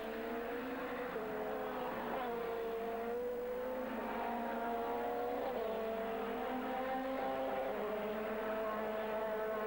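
Audi and BMW touring cars racing at Zolder in the 1997 STW championship, a steady roar of several engines at high revs with rising pitch sweeps as they accelerate and shift, continuous and fairly distant.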